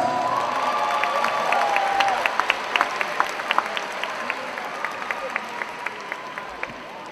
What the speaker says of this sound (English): a round of applause for the parents